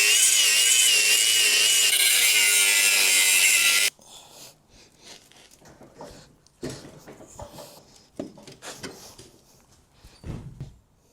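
A power cutting tool screams loudly against a welded steel beam on a Volkswagen Beetle floor pan for about four seconds, then stops abruptly, followed by scattered metallic clanks, scraping and rattling of metal being worked loose, no voices.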